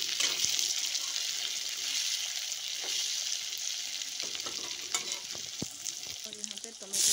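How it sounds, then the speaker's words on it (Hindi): Potatoes and chicken leg pieces fry in a pan for a masala curry, giving a steady close sizzle broken by several sharp scraping stirs and clinks near the end, with no speech. "तो आलू को भी फ्राई होने के लिए हम दे देते हैं। साथ में फ्राई हो जाएगा।"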